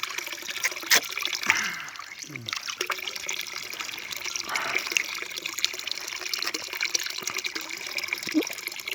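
Spring water trickles and splashes steadily into a container while it is filled for watering livestock on a pasture, with some talking and movement over the continuous flow.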